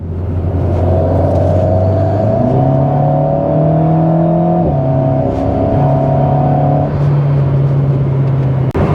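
An Alpine A110 S with 292 horsepower cruises on a motorway, its engine droning loud and close with a steady hum that climbs in pitch through upshifts, drops at gear changes, and settles into an even, sustained tone.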